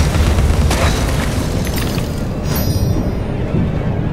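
Cannon blast and explosion in the video game Alice Madness Returns, a loud booming burst followed by a rumbling roar that lingers throughout.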